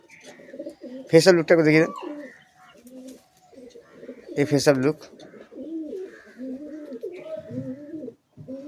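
Closed-tail pigeons kept as long-flying birds coo in low, repeated rolling calls, with a person talking loudly in two bursts over them.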